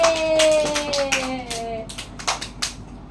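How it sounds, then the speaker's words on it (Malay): A group of children clap hands together in a classroom with a teacher, a quick, uneven patter of claps while a voice speaks over the start. "Tepuk tangan semua"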